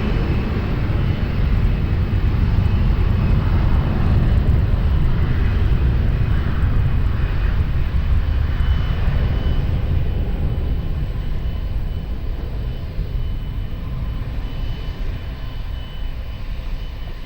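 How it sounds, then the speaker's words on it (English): An Airbus A320 rolls down the runway at Lisbon Airport, its jet engines giving a loud, broad roar that rumbles steadily and slowly eases as the aircraft moves off into the distance. "Airbus 320 is now rolling"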